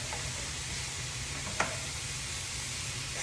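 Meat sears in a hot pan for pupusas, a steady close sizzle and frying hiss with a single clink of a utensil midway, no talking.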